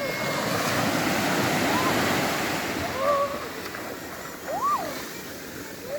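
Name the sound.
waves of the Pacific Ocean on a Sakhalin beach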